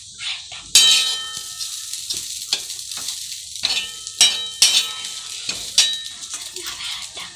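Poha being stirred with salt in a pan: repeated scraping strokes and metallic clinks of a spoon against the pan, with a light sizzle underneath, close and fairly loud.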